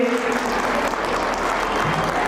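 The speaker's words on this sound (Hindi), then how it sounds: "जोरदार तालियों से स्वागत करें" Steady, dense applause from a crowd at a school annual function, continuous and fairly loud throughout with no pauses.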